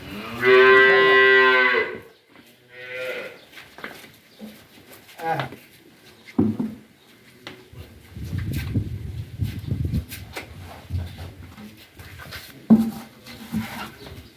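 A cow moos loudly and long at the start, then a rustling, shuffling farmyard background follows with occasional thuds and faint voices.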